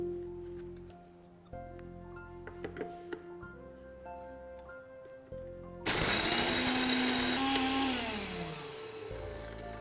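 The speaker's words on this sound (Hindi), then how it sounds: "मिक्सी में डाल देती हूँ एंड ये सारा मिक्सचर इसमें, और चलिए इसे ग्राइंड कर लेते हैं" A mixer grinder grinding a lentil mixture hums quietly at first, then roars loudly into a harsh, whirring grind that gradually winds down in pitch.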